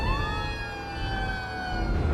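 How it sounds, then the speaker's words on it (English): Emergency vehicle sirens in the city-building game Cities Skylines 2 wail steadily, a continuous rising and falling tone that stays moderately loud over a low traffic rumble, with no talking. "I hear sirens."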